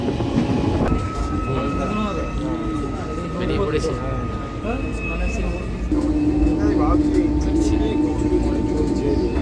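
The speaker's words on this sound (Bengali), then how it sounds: "মেন লাইনের ট্রেন হাওড়াগামী" A main line passenger train bound for Howrah rumbles steadily along the rails, loud and continuous with wheel clatter and a sustained hum, while people talk inside the carriage.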